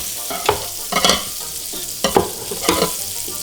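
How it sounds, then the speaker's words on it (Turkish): Bread slices frying in a pan for a Turkish-style toast, giving a steady close sizzle with a few sharper stirring and scraping bursts, no voices. "ilk öncelikle ekmekleri böyle kızartın"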